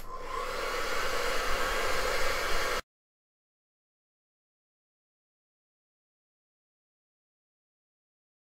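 Hair dryer blowing on a watercolor street-scene painting of a village hotel, a steady loud broadband whoosh for under three seconds that cuts off abruptly into silence.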